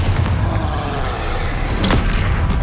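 A Bombarda or Confringo spell explosion in combat in the Hogwarts Legacy video game: heavy booming, rumbling blasts with a sharp crackling burst partway through, loud and dense throughout.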